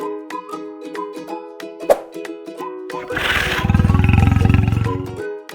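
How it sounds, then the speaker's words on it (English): A lion roars loudly and close up, a deep rumbling roar swelling after a few seconds and closing with a pulsing, throaty run of grunts; light plucked background music plays throughout. "Lion."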